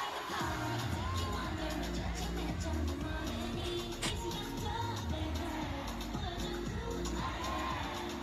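Crowd cheering at a live performance in the Ayala Malls Market, a steady distant roar of voices under loud music with a low pulsing beat.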